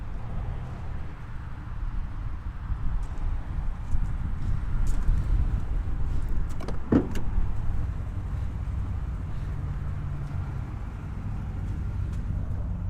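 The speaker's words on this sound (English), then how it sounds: "Sounds like a Flowmaster muffler on it." A 1992 GMC K1500 4x4 pickup with a Flowmaster muffler and throttle body injection idles steadily with a low, rumbling exhaust, continuous and moderately close, with faint clicks and a brief rattle midway.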